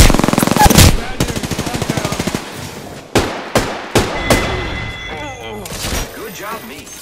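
Rapid automatic gunfire in an Apex Legends match: a long close burst of shots, then several sharp single reports spaced apart, with a speaking voice over parts of the fighting.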